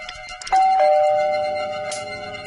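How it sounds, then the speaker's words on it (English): A front doorbell rings in a radio drama, one clear chime struck near the half-second mark and a second tone following, both ringing on and slowly fading over a soft background. "Then she went to the front door and rang the bell."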